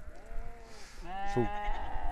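A sheep gives one wavering bleat in a field, fairly close, over a steady background hum of wind and outdoor noise.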